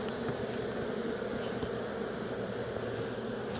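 Honeybees buzzing in an opened hive during queen rearing, a faint, steady, dense hum throughout with no talk.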